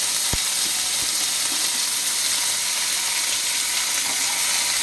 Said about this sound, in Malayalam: അതിലേക്ക് ഉള്ളി ഇട്ടിട്ട് വഴറ്റുക